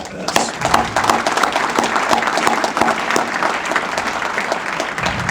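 Audience applause fills a hall at a hall of fame induction ceremony, dense steady clapping from a large crowd that holds at a constant level without fading.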